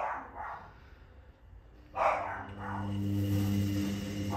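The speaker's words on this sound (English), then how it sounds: "Don't think I'll ever get through a video without the dogs barking." A dog barks a few times nearby, with sharp bursts separated by short pauses, followed by a low steady hum in the background.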